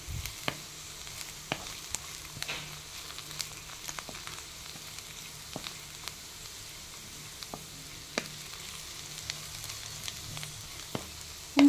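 Ivy gourd (dondakaya) with grated coconut frying in a pan, a soft continuous sizzle broken by frequent sharp pops and crackles, close but fairly quiet, with no speech.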